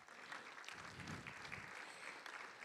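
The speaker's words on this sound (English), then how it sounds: "Let's give Corinne a round of applause." Quiet applause from a school board meeting audience for a student: a fairly faint, steady round of clapping from a modest room, with some low murmuring underneath.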